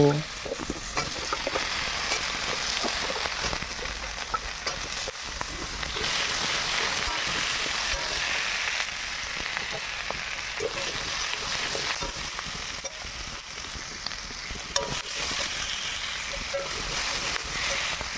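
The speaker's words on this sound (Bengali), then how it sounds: "সেই তেলের মধ্যে কচু আর আলুটাকে একটু নুন আর হলুদ দিয়ে ভেজে নেব" Taro and potato pieces fry in hot oil with salt and turmeric, a loud, continuous sizzle that holds steady throughout, with occasional faint scrapes of stirring.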